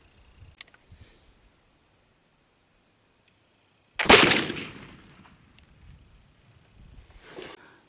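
A black powder flintlock rifle fires one loud, sharp shot about halfway through, with a crack that rings out and fades. Faint clicks from the lock come before it, and a quieter rustle follows.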